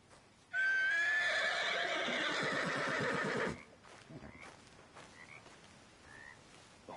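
A horse in Red Dead Redemption 2 lets out one loud, long whinny lasting about three seconds, followed by quieter ambient game sounds.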